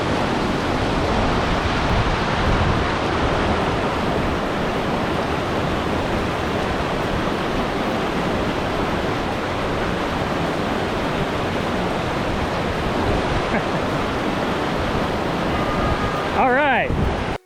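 Steady, loud rushing of river water flowing close by, a continuous broadband roar from start to finish with no pauses.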